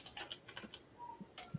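Light, quiet keystrokes tap on a computer keyboard in an irregular patter of soft clicks, close and faint with no talking.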